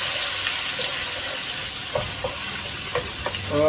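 Thai red curry paste being stirred in a hot pan makes a soft frying sizzle. Several quick spoon taps and scrapes come toward the end.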